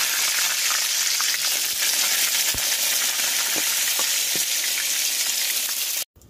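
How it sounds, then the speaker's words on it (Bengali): Eggplant slices fry in hot oil in a village kitchen, a dense steady sizzle with a few crackles and pops throughout, ending abruptly near the close. "তেল গরম হয়ে গেছে। বেগুনটা একে একে দিয়ে দাও। বেগুনটা ছেড়ে দিচ্ছি।"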